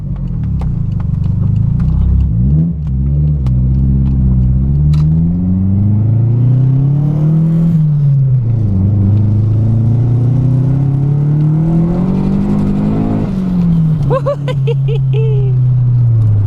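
A turbocharged Mazda MX-5 engine labours at low revs while driving, its pitch sagging and wavering close to a stall before recovering. The loud, close cabin drone is joined near the end by a brief higher whine.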